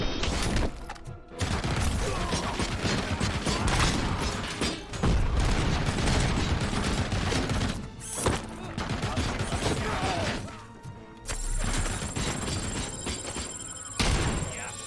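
Shooting in the video game RoboCop: Rogue City: dense, loud bursts of gunfire with heavy thuds and mechanical clanks, continuing almost without pause, with a few short gaps.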